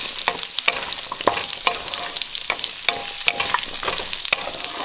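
Kabocha squash and garlic stir-frying in a pan: a steady hiss of sizzling oil broken by regular scraping and tapping strokes of a utensil, close and fairly loud, with no talking.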